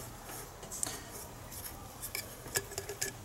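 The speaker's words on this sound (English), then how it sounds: "I'm going to use a box cutter to cut it" A box cutter slicing around the top of an aluminum Coke can, giving short sharp scratchy clicks and scrapes in an uneven run, close and fairly quiet with no talk.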